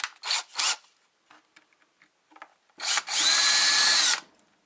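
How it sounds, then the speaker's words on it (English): A power drill whirs in two short bursts, pauses amid small clicks and handling noises, then runs in one longer, loud, steady grinding spin. "This drill bit I think might be the wrong size."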